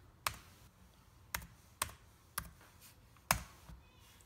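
Keys on a graphing calculator keypad are pressed one at a time, five or six crisp, close clicks spaced unevenly with quiet gaps between them.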